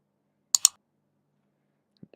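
A computer mouse gives two quick, crisp clicks close up in near silence, followed by faint soft taps.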